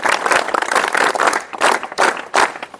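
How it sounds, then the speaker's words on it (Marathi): An outdoor audience on a heritage-trip talk gives a round of clapping in uneven surges, loud and close, rising and dropping in several short bursts. "एकदा त्यांच्यासाठी जोरदार टाळ्या देणार आहोत"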